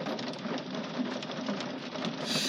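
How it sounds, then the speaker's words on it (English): Steady rain falls outdoors as a continuous, fairly loud hiss with a dense patter of drops, running evenly throughout with no talking. "Excuse the rain, family, but it's making the video more beautiful."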